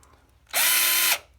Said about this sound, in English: in there, you'll actually begin drilling